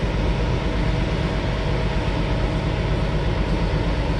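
Road and wind noise roar through the open window of a truck at highway speed, a loud, steady, broadband rush with no voices over it.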